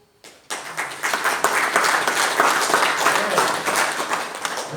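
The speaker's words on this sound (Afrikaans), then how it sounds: "Jy kan vir jouself 'n lekker hande klap." Graduates at a university graduation ceremony clap for themselves, a dense, sustained round of applause from a large crowd that starts suddenly and carries on steadily.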